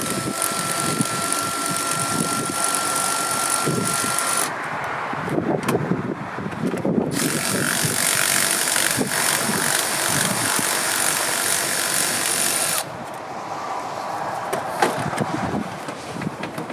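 Ratchet wrench with a deep socket working bolts on a 7.3 Powerstroke diesel valve cover, giving rapid close clicking in long runs broken by short pauses, with no voices.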